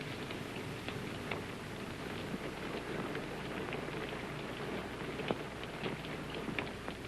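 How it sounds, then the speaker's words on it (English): Steady rain falls in a night scene from a 1932 war romance, a continuous dense hiss of drops with scattered louder ticks and patters, fairly close and even throughout, with no voices over it. "It's only the rain."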